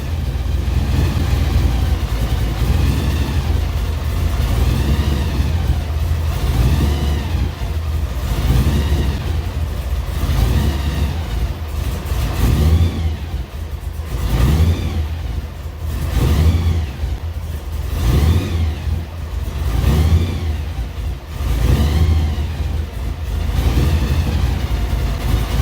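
A 1955 Chevy engine runs loudly and continuously, rumbling close up with a rough uneven idle and repeated surges of revving, with no voices over it.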